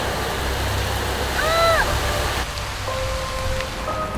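Heavy rain pours down steadily in Bhutan, a loud, unbroken rushing roar like a waterfall, with a few faint tones and brief voices buried underneath.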